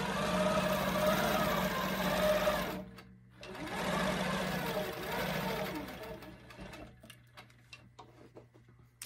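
A long arm quilting machine stitches curves along a ruler, its fast steady mechanical whir running close and continuous, with a brief pause before resuming and a few light ticks near the end.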